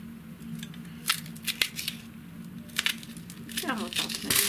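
A knife chops vegetables, including carrots, on a board while preparing pork brisket to be baked in beer on a bed of onions. Irregular crisp cuts and crunches come close up over a quiet kitchen hum, with a faint voice nearby.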